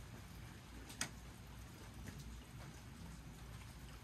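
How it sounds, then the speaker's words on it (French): Soft, steady rain patters quietly, with an occasional slightly sharper drop standing out. "je vais me taire et je vais écouter le bruit de la pluie"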